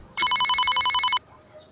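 A telephone bell rings once in a rapid, trilling burst lasting about a second, loud and close, then stops.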